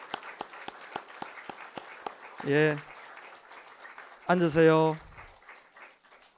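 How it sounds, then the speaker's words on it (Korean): A church congregation claps at a Sunday worship service, giving two loud bursts of applause separated by a pause. Someone speaks between and after the clapping. "영광과 감사의 박수를 올리겠습니다"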